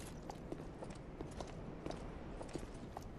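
Enemy footsteps from the video game Dark Souls, faint soft clip-clop steps repeating at a steady walking pace over low ambient rumble.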